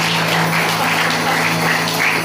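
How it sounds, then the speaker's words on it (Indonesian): A church congregation at GBI Tj Selamat claps steadily in a sustained, dense wash of applause that stays loud and even throughout. "Berikan tepuk tangan buat Tuhan kita."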